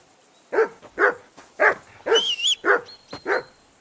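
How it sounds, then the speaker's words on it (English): A dog in the medieval game Kingdom Come: Deliverance II barks in a quick run of about seven loud, close yips and barks, each one short and sharply separated, with a brief whine near the end. "Whistle at that mutt of yours to stop barking!"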